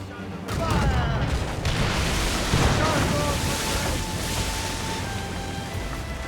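Broadside cannons boom from a sailing warship in Assassin's Creed Rogue, a loud rumbling barrage of overlapping blasts over churning ocean, with shouted crew voices underneath.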